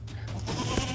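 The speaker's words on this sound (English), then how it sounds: "Goats are very tricky animals to begin with" A goat bleats once, close and loud, in a short nasal cry at an off-grid log cabin homestead.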